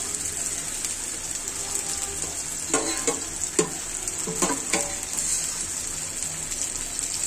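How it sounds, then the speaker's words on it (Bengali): Beef pieces fry in a pan with a steady close sizzle and several louder stirring scrapes of a spatula midway, with no talking. "আমি ভেবেছিলাম মাংসগুলো একটু ঝুরি ভাজা করব, কিন্তু দেখলাম যে সময়ের অভাবে ভালো লাগতেছে না, তাই এভাবে ভাজা করে নিলাম।"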